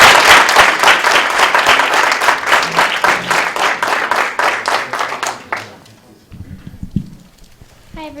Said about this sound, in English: you give them a big round of applause.